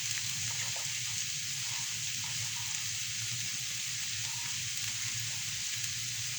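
Butter sizzling as mushrooms fry in a pan, a steady close hiss and crackle running continuously and evenly with no voices.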